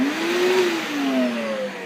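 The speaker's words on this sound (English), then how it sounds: "Obviously, I spray each one with air." Compressed air blasting out the spark plug wells of a Kawasaki Ultra 300/310 jet ski engine, a loud continuous hiss with a shifting whistling tone.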